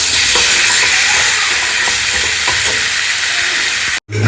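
A dish being sautéed with spice masala in a pan over a high flame: loud, continuous hissing sizzle with faint utensil scrapes throughout, cutting off abruptly near the end, no talking.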